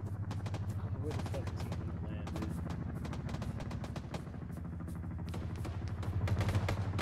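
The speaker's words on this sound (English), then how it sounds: "AK is off to our southeast." Rapid AK rifle gunfire in the Arma 3 video game, a dense series of sharp cracks from a distance over a low rumble, with voices talking under it.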